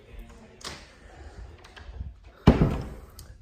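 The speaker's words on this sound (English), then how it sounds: "I'm going to close the door to this master bedroom." A bedroom door in a large house swings shut, ending in a solid thud after some soft handling noises, close by and fairly loud with no talking.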